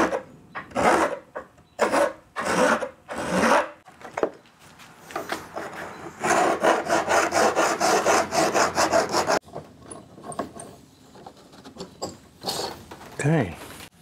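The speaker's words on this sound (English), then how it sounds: "So let's grab a file and get that part done." Metal file smoothing a clamped, homemade negative carrier by hand: bursts of rasping strokes, then a longer run of rapid scraping, close up. Brief voice sounds come between the strokes.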